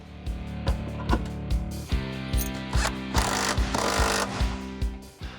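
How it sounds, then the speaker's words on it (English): A power drill bores holes through a Honda Civic hatchback's floor for harness eyelets during a rally build, sounding as a loud, rhythmic mechanical chatter with repeated clunks and whirring bursts, close and alone. "Now we can drill our holes and install our eyelets."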